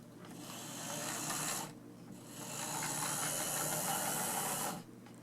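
A Tyco 4-6-0 Ten Wheeler model locomotive, built from a kit, runs slowly with a faint, soft mechanical whir and chuffing rasp that swells, drops briefly, then continues before fading, quiet and close, without speech.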